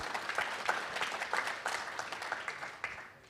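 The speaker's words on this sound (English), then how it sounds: "So please give them a round of applause" An audience at a sports panel event applauds with steady, dense clapping that carries on for several seconds, with no speech over it.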